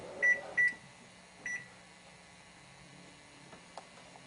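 An oven timer beeps in a quiet home kitchen, two short, sharp electronic tones in quick succession followed by a fainter third, with low background hum afterward.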